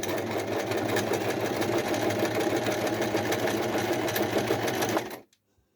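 A sewing machine set to a small stretch stitch runs steadily and loudly, a fast mechanical whirring stitch rhythm held for about five seconds before stopping abruptly into near silence.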